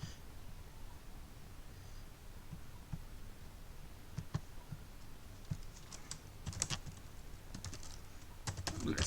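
Typing Python code on a computer keyboard, heard as close, uneven key taps that start sparse and grow into quick bursts of clacking toward the end, with faint room noise underneath.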